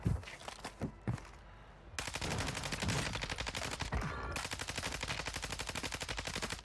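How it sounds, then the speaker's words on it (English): Rapid automatic gunfire in Warzone 2 on Ashika Island, a few scattered shots, then sustained bursts of fast, loud, continuous firing. "But he was shooting at somebody."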